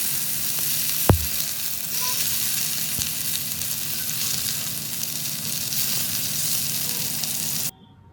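Tomato pieces frying in hot vegetable oil in a pan on a gas stove, a loud steady close sizzle with one sharp clink early on, cutting off abruptly near the end.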